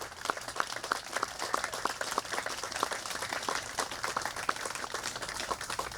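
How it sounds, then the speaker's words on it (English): A crowd at an outdoor Fourth of July patriotic program applauds Vietnam War veterans, with sustained mid-distance clapping and many overlapping hands forming a steady wash that carries evenly for several seconds. "And how about a round of applause for all the Vietnam War veterans"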